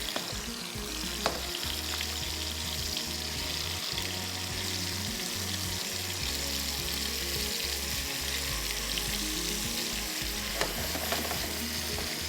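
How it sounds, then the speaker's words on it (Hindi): Beef pieces sear on a high flame in a pan while a masala biryani is cooked, producing a continuous loud sizzle with occasional scraping knocks, close and without talk. "सील से मुराद थोड़ी तेज़ आंच पे हमने इसको दोनों साइड से पकाना है"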